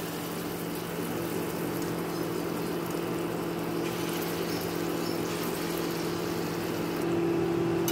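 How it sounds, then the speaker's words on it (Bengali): Small chana dal fritters fry in hot oil with a steady, even sizzling hiss over a low constant hum, unbroken for the whole stretch. "এখন আমি অল্প অল্প করে ছোট ছোট করে এরকম ডালের বড়ার শেপে বড়াগুলোকে ভেজে নেব।"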